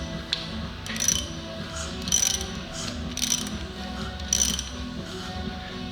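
Engine timing gears of an Opel Vivaro 1.6 CDTI Bi-Turbo are turned slowly by hand, giving a steady ratcheting whir with a sharper mechanical click roughly once a second. Close and fairly quiet, with no talking.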